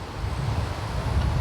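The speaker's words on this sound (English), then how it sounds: "Super windy today." Strong outdoor wind from a passing hurricane buffets the microphone in a continuous low rumble with gusty, uneven surges, during outdoor cooking of lard and jelly.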